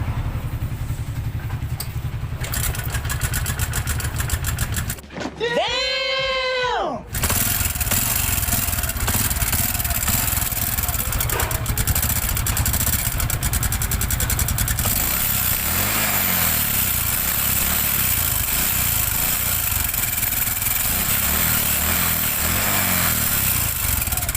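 A Honda Wave motorcycle's loud, rough engine idles steadily with a rattling, uneven sound throughout, briefly interrupted by a high whistling tone partway through.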